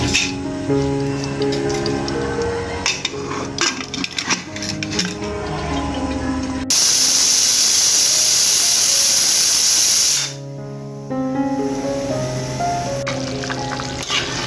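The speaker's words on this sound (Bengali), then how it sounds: "প্রেসার কুকারে আর 10টার মতো সিটি দিয়ে তারপরে তো কড়াইয়ের মধ্যে ঢেলে বাকিটুকু রান্না করে নিয়েছি" A pressure cooker holding duck lets out a loud, steady burst of hissing steam lasting a few seconds, preceded and followed by light metallic clinks of cookware and a tonal background.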